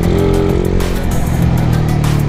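The engine of a Yamaha Mio Gear motorcycle drones loudly and continuously from just behind, holding a steady pitch near Dibut in San Luis, Aurora.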